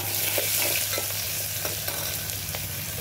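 Garlic, grated coconut, cumin, asafoetida and curry leaves frying in hot oil for a black bean dal tempering, a close, steady crackling sizzle with light stirring scrapes in the pan.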